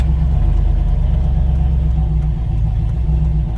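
Cammed Chevrolet Silverado single cab with a 4.8 LS V8, Summit Pro LS 8720 cam, no tune and stock 4L60 transmission, rumbling loudly and steadily at a choppy idle up close, with no talking.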